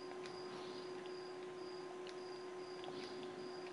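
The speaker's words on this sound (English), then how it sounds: "Now there is a cricket outside of our house. You can hear it like he's inside in the house." A cricket chirps outside a house at night, a steady high-pitched trill repeating in short regular pulses, faint and distant-sounding over a low background hum.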